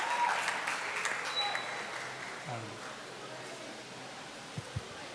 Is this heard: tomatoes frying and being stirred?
no